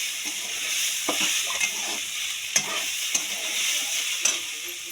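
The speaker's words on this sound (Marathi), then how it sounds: "आता टाकले टोमॅटो तर आता घ्यायचं भाजून ह्याला पण हलवून एकदा बघा" Chopped onion and tomato roast in a pan and get stirred now and then, giving a steady close sizzle broken by soft scraping knocks of the spoon, with no talking.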